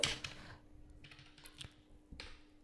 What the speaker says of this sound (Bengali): আমার ওয়াইফের আধার কার্ড নাম্বারটা আমি এখানে এন্টার করে দেব।